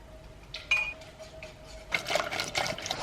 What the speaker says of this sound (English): I have to whisk with a metal whisk in a metal bowl.